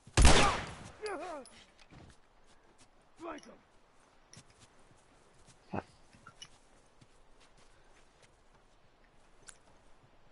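A loud gunshot opens the sequence in The Last of Us on grounded mode, followed by sparse fainter thuds and clicks with long quiet gaps between them.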